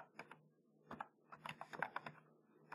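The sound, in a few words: typing a command on a computer keyboard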